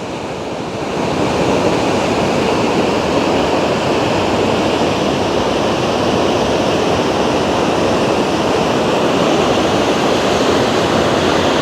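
A powerful, steady roar of rushing flood water after rain in a village garden starts abruptly and continues loud and unbroken, like a torrent close by.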